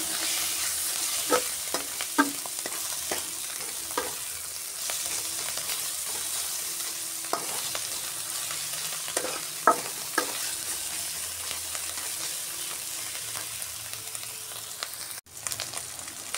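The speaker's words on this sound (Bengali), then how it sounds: "ভালো করে ভাজতে হবে" Lentil fritters fry in a pan with turmeric and salt, a soft continuous sizzle running under occasional scrapes and knocks of a spatula stirring, fairly quiet and close, with no voices.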